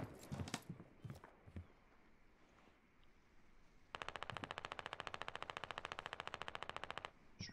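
Rapid automatic gunfire rattles in the Squad military shooter, one long sustained burst of fast, evenly spaced shots after a few scattered earlier cracks and thumps, loud and close.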